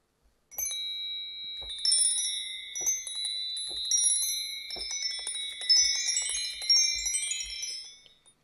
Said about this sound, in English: And some chimes. We're going to do hard mallets.